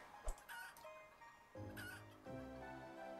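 Chickens in the Planet Centauri video game cluck in short soft bursts over a steady game soundtrack, with a sharp hit near the start.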